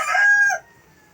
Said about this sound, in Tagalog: pasensya na kayo sa manok na sumisigaw